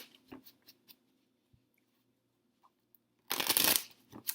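Tarot cards being shuffled: a few soft taps and flicks, then a dense, close riffling burst near the end, quiet overall with no talking.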